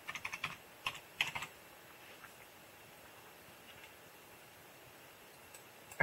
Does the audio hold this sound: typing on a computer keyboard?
yes